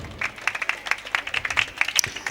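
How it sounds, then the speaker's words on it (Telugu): A church congregation claps together in praise, a run of roughly regular, fairly brisk claps heard at moderate distance with a faint crowd murmur beneath. "గట్టిగా ఒకసారి చప్పట్లు కొట్టి ప్రభువును స్తుతించుదాం"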